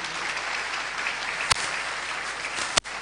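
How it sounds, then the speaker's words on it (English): Audience applause for Dr. Shepherd Bushiri at a book launch at Victoria Gardens, Blantyre: a steady, fairly faint wash of outdoor clapping held level throughout, broken by two sharp brief knocks. "So clap your hands for Dr."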